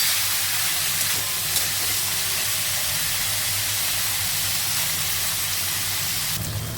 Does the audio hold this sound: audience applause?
no